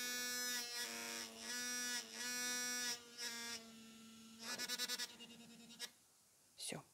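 Faberlic electric toothbrush buzzing in several bursts, steady tonal drones that switch between modes, the last ones pulsing rapidly, close and clear, ending with a short separate knock.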